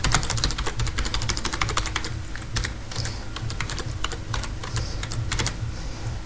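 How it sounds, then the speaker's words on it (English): Fast typing of the alphabet on a computer keyboard, a steady rapid clatter of key presses, close and fairly loud, with no voices. "Basically you have to type the alphabet as quickly as you can"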